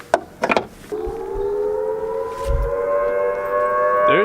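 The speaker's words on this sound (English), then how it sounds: "There's straight up a siren going on." Civil defense siren wailing outdoors, a long steady rising-and-falling tone that swells loud and holds, preceded by a few sharp knocks and clatter.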